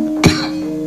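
A single short, sharp cough, close and loud, standing out over a faint steady hum.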